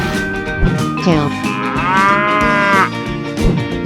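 A loud, close cow moo from a 3D animal video game, one long drawn-out bellow rising and then holding steady before it fades, heard alone over faint game sounds.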